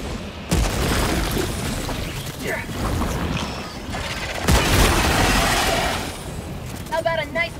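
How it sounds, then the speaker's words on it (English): Grenade explosion among bug enemies in Helldivers 2, a heavy boom followed by a long rumbling, crackling roar, with a second blast and rolling debris midway and brief chirping effects at the end. "Throwing grenade!"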